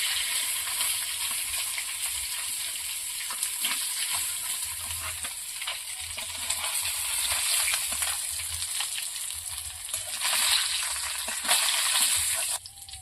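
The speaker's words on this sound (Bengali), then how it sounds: "বাকি মাছগুলো ভেজে নেব।" Fish pieces frying in hot oil in a pan give a steady, loud, close sizzle with occasional crackles throughout and no talk.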